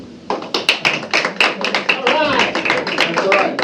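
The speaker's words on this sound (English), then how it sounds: "who was too cool to clap for either one but would like to clap now?" An improv comedy audience at Mystic Vines breaks into a brisk burst of hand clapping, sharp claps coming close together and thickening into a short round, nearby and fairly loud.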